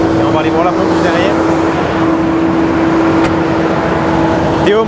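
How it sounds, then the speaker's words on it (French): Tractor engine running steadily to drive a slurry pump during manure spreading, a loud continuous drone with a strong constant tone, with a voice talking over it. "Donc on est sur le tracteur qui pompe bien évidemment."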